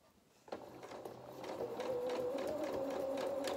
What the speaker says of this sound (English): And then you're going to sew this edge here at the 1 centimeter seam allowance.